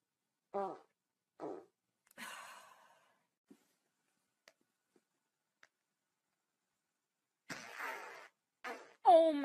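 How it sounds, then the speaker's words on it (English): Several short flatulence bursts spaced through the clip, with faint clicks between them, then a breathy sigh-like sound and a louder final burst at the end. "I farted."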